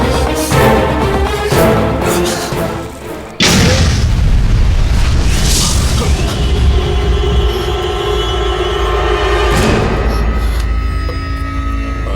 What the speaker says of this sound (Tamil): வெடிக்கலடா, இடி இடிக்குது.